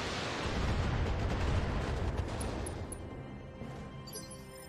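A mech's ammunition cooks off in a BattleTech game, a loud rumbling explosion that swells for a couple of seconds and then fades into a lingering tail.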